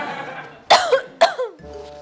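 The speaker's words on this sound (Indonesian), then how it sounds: "Tetangga kita batuk." Two sharp coughs from a person indoors, close and loud, with a short gap between them and faint room sound afterward.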